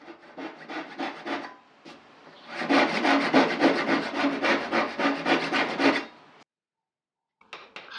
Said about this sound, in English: I now use my saw to remove the majority of the waste along the lines of the recesses for the half flap dovetails